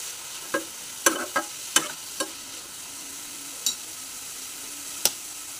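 Chopped carrots, beans and spring onion stir-frying in a pan for gola pizza, a low steady sizzle broken by several sharp spatula scrapes and knocks, close and clear, with no voices.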